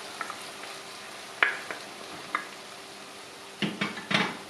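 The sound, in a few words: stirring meat and vegetable mixture with dill in a pot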